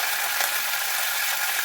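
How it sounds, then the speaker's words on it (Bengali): Curry leaves and poppy seeds fry in a hot pan, giving a steady, close, bright sizzle with no pauses. "কারি পাতা কারি পোস্ত যখন একটু ভাজা ভাজা হয়ে যাবে"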